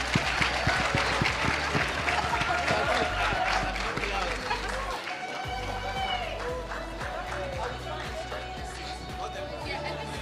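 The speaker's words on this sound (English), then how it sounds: "Can we give them another round of applause, but a little bit louder?" A conference crowd at a national ICT summit breaks into a loud, sustained round of applause and cheering. Voices and chatter run through the continuous clapping for the whole stretch.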